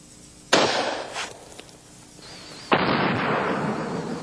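A .30-06 hunting rifle round fired into a watermelon: a sharp loud burst followed by a shorter pop, then a second sustained blast-like burst about two seconds later, with no talking.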